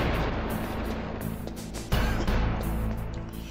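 A C4 explosion in the video game Metal Gear Solid, a sudden booming blast cutting into a dense rumbling game soundscape, followed by continued low roaring.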